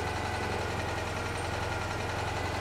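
A Citroen 2CV engine idles steadily just after starting, with a continuous low mechanical drone and a slight rhythmic flutter that holds close and even throughout.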